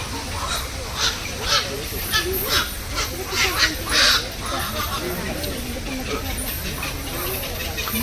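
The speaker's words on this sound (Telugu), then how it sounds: "బాతులు వస్తున్నాయి ఇవన్నీ" Several ducks quack in short bursts, some near and some farther off, while people talk in the background.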